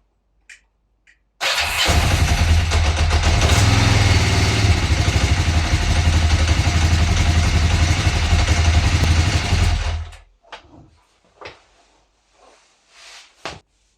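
A Kawasaki EN motorcycle engine fires up abruptly and runs loud and close with a steady, rumbling idle for about eight seconds, then cuts off, followed by a few faint knocks and handling noises.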